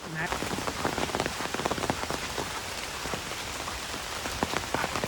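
Steady, moderate rain patters densely on surfaces outdoors near a river, a continuous close wash of drops rather than a heavy downpour, with no talking.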